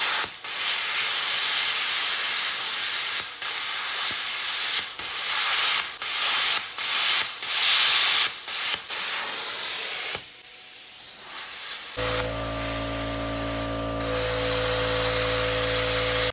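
A cheap BestArc plasma cutter hisses steadily while cutting a greasy, rusty bracket, a loud continuous spray-like roar with faint crackles, ending as the arc cuts off into a steady electrical hum.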